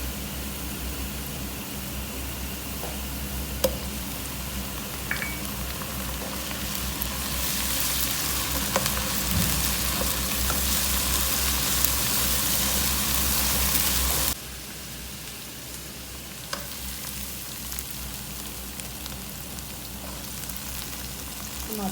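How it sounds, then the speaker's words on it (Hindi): Garlic ginger paste fries in hot oil, a steady sizzle that grows louder and denser partway through and then drops abruptly to a softer crackle. "बस आप इसके अंदर डालूंगी लहसुन अदरक का पेस्ट।"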